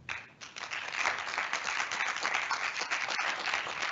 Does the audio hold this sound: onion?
no